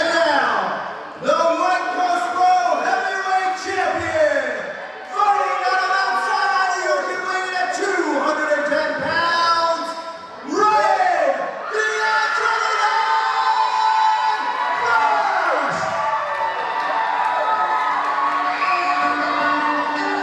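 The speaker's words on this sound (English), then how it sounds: "You hear that crowd erupt when he comes out." A crowd at a Right Coast Pro Wrestling event in Delaware cheers and roars loudly, with whoops and shouts rising in waves, while a commentator's voice talks over the din.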